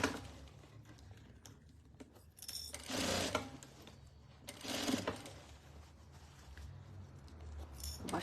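A sewing machine stitches a circular seam on a fabric basket, its needle running in steady rhythmic bursts that rise and pause, close and fairly quiet, with no talking.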